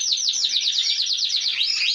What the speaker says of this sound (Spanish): Conozco el canto de cada pájaro.